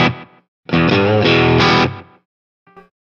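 An electric guitar played through a Danelectro FAB 600ms delay pedal gives a loud, distorted strummed burst, then a faint echoing repeat trails off after a short silence.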